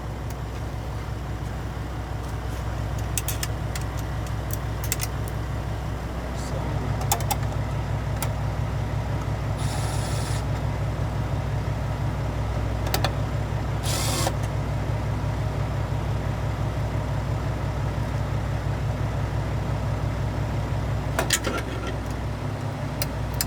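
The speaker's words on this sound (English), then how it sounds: "There's like two trucks idling next to me" Two trucks idle side by side beside a Peterbilt 389, a steady low diesel rumble holding evenly throughout, with small clicks and a couple of brief hissy bursts over the top.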